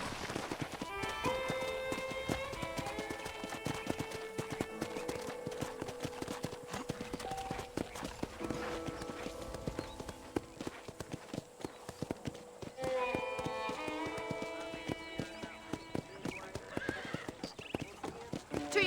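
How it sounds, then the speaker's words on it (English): A horse trots around a ranch in Red Dead Redemption, its hooves clip-clopping in a steady rhythm throughout, with whinnies and background music and speech mixed in. "let's see if you can still ride a horse"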